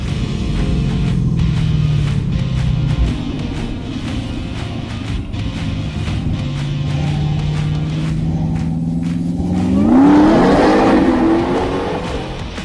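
An 840-horsepower Demon Jeep Wrangler drag races a Corvette, engines roaring steadily at close range and climbing into a loud revving surge near the end.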